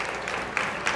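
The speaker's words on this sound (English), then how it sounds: "Good on the fans here to be clapping and observance for this" Ice hockey fans in an arena applauding an injured player as he skates off, a short steady spread of clapping from the crowd with a few sharper claps.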